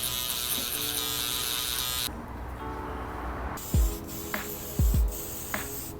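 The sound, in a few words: Gamma Uno single foil electric shaver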